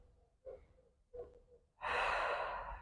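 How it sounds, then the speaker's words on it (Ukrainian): A person breathing during an exercise session for the pelvic floor and abs: two short soft breaths, then a long loud airy exhale close to the mic. "вдих, видих"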